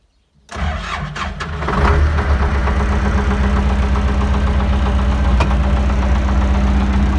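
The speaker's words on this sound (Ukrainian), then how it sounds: "Зараз будемо запускати двигун" After a brief silence, the diesel engine of an MTZ-80 tractor cranks, catches and revs up, then settles into a loud, steady, rumbling idle close by.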